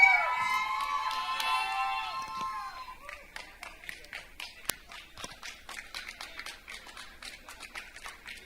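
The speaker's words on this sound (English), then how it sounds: "loudest cheer to the beautiful singer" Audience at a live afternoon session cheering for a singer: a burst of voices and shouts that fades into scattered claps and whoops, fairly distant, with a voice talking at the start.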